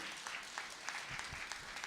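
A crowd at a French variety show applauds a guest, Christian Vidal: steady, dense clapping from many hands, moderately loud and sustained throughout with no talk on top.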